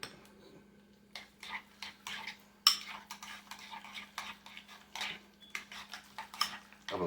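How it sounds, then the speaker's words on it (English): A spoon stirs deviled egg filling of egg yolk, mayo, garlic and onion in a bowl, scraping and clinking against the sides in quick irregular strokes, close and moderately loud with no one talking. "I'm gonna mix this up."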